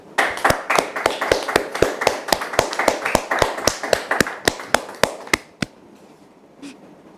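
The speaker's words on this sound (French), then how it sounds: "merci de le recevoir sous vos applaudissements, s'il vous plaît" Applause welcoming a guest onto a French-language talk show about domestic abuse, heard as a run of loud, distinct, regularly spaced claps close by, stopping abruptly near the end before a faint voice.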